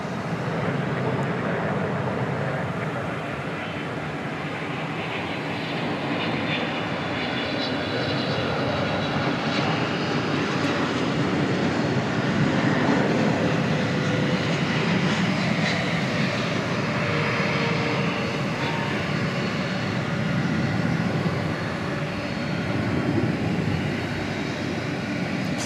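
A big Boeing 777 airliner passes at night at DFW Airport. Its engines make a loud, steady roar that swells gently and holds for about twenty-five seconds, with no pause.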